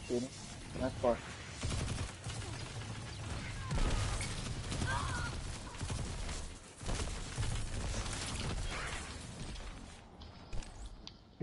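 Rapid gunfire bursts in a video game, sharp repeated shots and weapon mechanisms at moderate level, mixed under players talking over each other.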